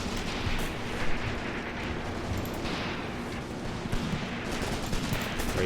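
Dense gunfire and artillery rumble continuously in the war game Graviteam Tactics: Mius Front, a thick battlefield wash with scattered sharper shots.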